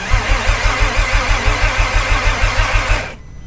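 A car engine cranks over loudly in a fast rhythmic chug for about three seconds, starting for the first time, before the sound drops away abruptly.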